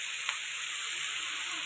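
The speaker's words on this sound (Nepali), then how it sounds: "फेरि ल हेर्नुहोस् पानी सुकेरै चर्चर चर्चर चर्चर गर्नु" Buffalo tripe fries in a pan as its water cooks off, giving a continuous close crackling sizzle at a low, even level without any talk.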